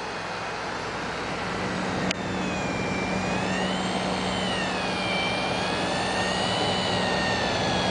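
A Tagan BZ-900 computer power supply gives off a high-pitched electronic squeal with wavering tones over a steady, loud whoosh of fan noise. It runs on without a break.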